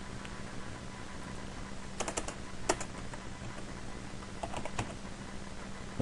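Computer keyboard typing while writing PHP code, scattered bursts of soft keystrokes over a steady fan hum, close and quiet, with pauses between clusters.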